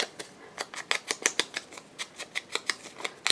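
Scissors snip steadily through a paper doily, a quick run of sharp, close cuts with short pauses between bursts and no one talking.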